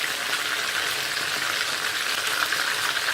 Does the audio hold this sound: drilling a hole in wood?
no